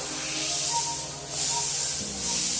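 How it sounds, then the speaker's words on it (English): Airbrush spraying paint onto a T-shirt for graffiti-style work, a loud steady hiss in three long bursts separated by brief dips, with no talking. "allows me to spray a lot more paint more quickly and kind of blow out any clogs"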